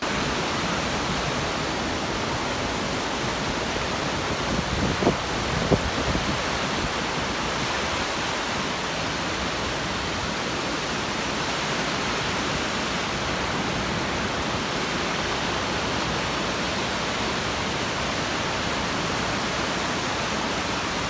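Sea waves at a beach give a constant broad wash of surf, steady and enveloping for the whole stretch, with no voices present.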